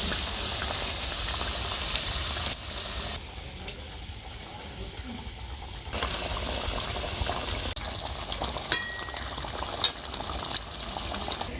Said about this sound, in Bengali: জলের মধ্যে ডিমগুলোকে দিয়ে দিয়েছি, আর এই ডিমগুলো খুব ভালো মতো 5 মিনিট ফুটিয়ে নেব।